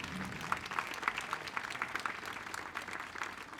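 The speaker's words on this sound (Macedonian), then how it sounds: "Сега ги поздравуваме со аплауз." A concert audience applauds a women's chamber choir, with individual claps distinct and rhythmic within a moderate, slightly distant crowd clapping that carries on evenly.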